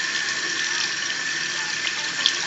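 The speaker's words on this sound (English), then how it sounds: "turn your water on and make sure you get it where it only hits the white piece instead of the slave." Garden hose spraying water onto diamond turf during cleaning, a steady, close, continuous hiss of spray that runs unbroken throughout without pauses.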